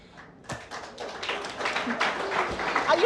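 Awards ceremony audience clapping, starting sparse and building into denser applause, moderately distant and somewhat faint, with voices mixed in.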